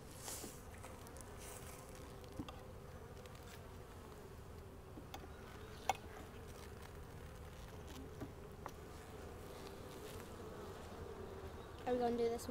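Honey bees buzz in a low, steady drone throughout a spring beehive inspection, faint and continuous, with a few small clicks and taps from handling the hive.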